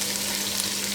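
Onion, green chilli and curry leaves fry in a pan with a close, continuous crackling sizzle, steady and unbroken for a brief moment with no voices.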